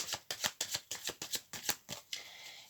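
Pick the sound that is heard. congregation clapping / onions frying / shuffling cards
shuffling cards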